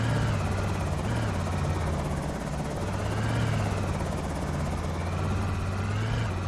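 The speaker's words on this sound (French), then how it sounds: "L'hélico est de retour." A helicopter in the survival game Project Zomboid passes overhead, a steady, loud rotor drone with a low pulsing thrum that holds for several seconds and has no speech over it.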